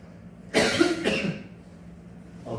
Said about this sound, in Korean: 기침하면 안 되는데요, 그렇죠?